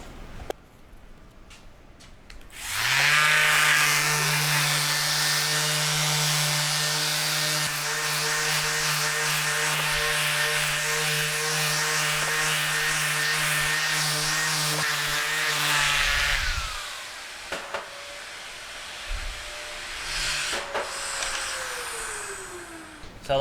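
Power sander fitted with a soft, spongy pad conforming to curves while sanding timber, a steady close whine running for about fourteen seconds before spinning down and stopping, with faint handling noises afterward.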